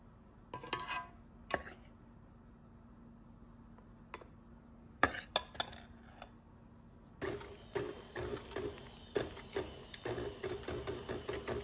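Cake batter for a birthday cake is mixed with milk in short pulses, giving bursts of whirring and clattering in a kitchen. The sound starts quiet and sparse, then turns into steadier, denser, moderately loud mixing.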